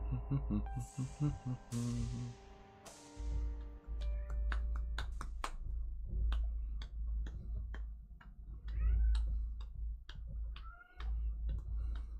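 A cat meows a few short times, fairly faint, alongside steady ticking clicks and a low hum in the background.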